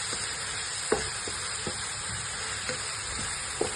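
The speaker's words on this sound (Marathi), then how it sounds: "लसूण टाकूया आणि हिरवी मिरची त्याला परतून घ्यायची।" Garlic and green chilies sauté in oil for fried rice, a constant close hiss broken by several sharp spatula scrapes and taps against the pan, no voices.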